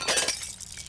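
Objects smashed in South Park: The Stick of Truth, a short bright crash of shattering glass with tinkling debris that quickly fades, heard alone and close.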